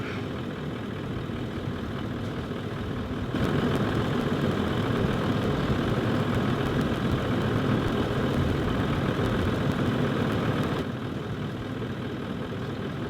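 A stock Toyota Land Cruiser VDJ 200 series diesel engine idling beside a generator, a steady low rumble that grows a bit louder partway through, then eases back, with no talk.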